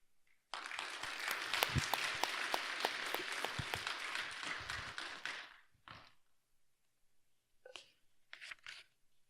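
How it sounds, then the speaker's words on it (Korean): An audience at a Buddhist academic event applauds to welcome the monk, a dense and steady burst of clapping that lasts about five seconds and then fades into scattered claps and rustling. "큰 박수로 스님 모시겠습니다"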